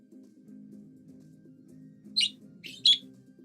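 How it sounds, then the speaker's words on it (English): Birds chirp in short, bright bursts, three quick calls near the end, over a low steady hum. "The birds are getting riled up about it."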